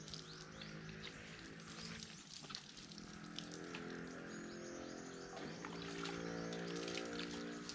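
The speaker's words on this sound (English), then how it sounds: "I'm gonna wash my shirt at the same time." Steady running and splashing water while a shirt is washed in a sink, a continuous faint wash of sound with a tonal hum and occasional birds in the background.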